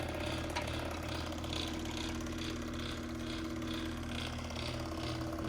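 A small pump moving transmission fluid on a Cadillac whirs and chugs steadily at a quiet, even level, with a faint regular pulsing rhythm and no voices.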